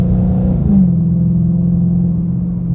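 A 2013 Dodge Charger R/T with a 5.7L Hemi V8 revs up and pulls away, its tone rising then settling into a steady drone, loud and close throughout.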